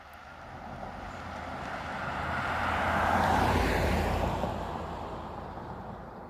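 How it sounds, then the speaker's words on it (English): A big Chevrolet Tahoe approaches from behind on a road, a broad tire-and-engine whoosh swelling gradually to a peak, then fading as it passes, under steady wind noise outdoors. "I could hear that car coming behind me. Big Tahoe."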